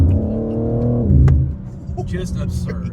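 A 2022 BMW M4 Competition xDrive engine revs up loudly, pitch climbing then dropping off, followed by a lower rumble with faint background noises.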